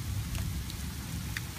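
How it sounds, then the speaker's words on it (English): Steady rain falling during a thunderstorm, a dense, even hiss with a low rumbling wash underneath and a few sharper drop splashes, continuous and close throughout. "Here comes the rain."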